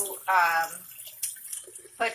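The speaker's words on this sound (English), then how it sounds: "we will just put the water in, and I'm going to rinse them a couple of times" Water runs from a tap into a container of sprouts for rinsing, a steady close splashing hiss with brief voice-like sounds over it.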